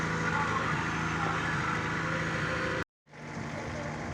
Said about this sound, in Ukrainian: От весь этот апарат, комбайн, трактор.